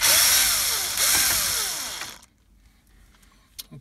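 A power tool spins at high speed while backing out bolts during a Ford Expedition car stereo removal, a loud whining burst of about two seconds that stops abruptly, followed by a few faint handling clicks.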